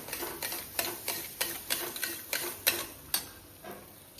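A spoon stirring milk into sheera in a pan, a quick run of rhythmic scraping strokes about three per second, close and fairly quiet.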